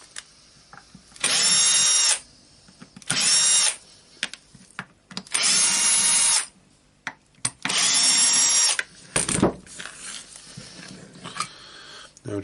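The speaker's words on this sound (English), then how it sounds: "Okay, now we need to unscrew the screws here. I will do that with a drill to" A power drill whirs in four loud bursts while unscrewing screws from a Berner BROS 150 orbital sander, separated by short pauses with clicks and handling noises, then faint rattling at the end.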